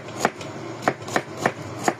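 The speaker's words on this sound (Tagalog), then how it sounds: "At mag-iwa tayo ng bawang naman tsaka sibuyas." Garlic and onion being sliced on a board, five crisp knife chops at an uneven pace, close and distinct over a quiet background.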